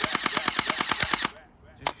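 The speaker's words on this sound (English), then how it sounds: "shoot without even moving the slide" HW Glock X1 gel blaster firing in rapid full-auto, about a dozen evenly spaced sharp pops in a quick burst, then a pause and one last click close to the microphone.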